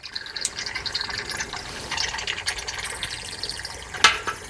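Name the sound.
diesel fuel draining from Ram 6.7L Cummins fuel filter into container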